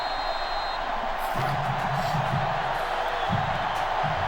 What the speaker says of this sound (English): Crowd going absolutely bananas right now.